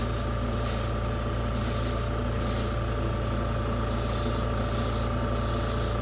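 Spray paint hisses onto plastic model car kit parts in short repeated bursts of steady airy spray, close up and continuous, with brief gaps where the nozzle is released between passes.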